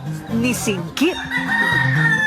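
A rooster crowing at sunrise in Naawan, Misamis Oriental, a close, strained crow rising and falling, with a narrator speaking over it and hens clucking nearby.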